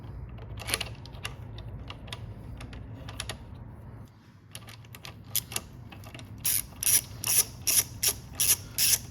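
Hex head tool tightening a bolt on a Triumph Daytona 660 motorcycle, a run of rapid ratchet clicks coming in short regular bursts toward the end, close and fairly loud, after a stretch of low background rumble and handling noise.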